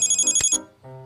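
A cell phone rings with a bright electronic ringtone, a few quick chirping tones in a row followed by a short pause and another tone, loud and close, with no voices.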